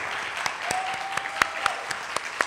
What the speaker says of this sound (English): let's give Mr. Lane another round of applause for coming down here and engaging us.